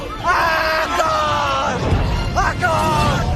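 Loud, strained screaming and yelling on a French Koh-Lanta reality TV show, several harsh drawn-out cries in bursts amid crowd-like commotion and background noise.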